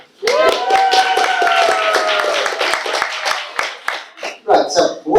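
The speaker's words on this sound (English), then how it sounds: "You can now clap." A conference audience at the AMICAL 2016 closing session claps together, a burst of hand claps that starts suddenly and then fades, while a voice carries over the applause.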